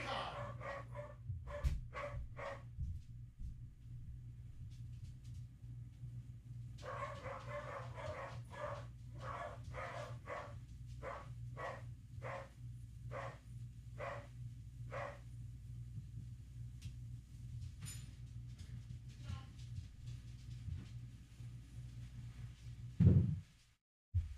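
Dogs bark in the background, giving a run of single sharp barks with short gaps, a pause, then a longer evenly spaced series. A low hum runs underneath, and a brief loud thump comes near the end, with no talk.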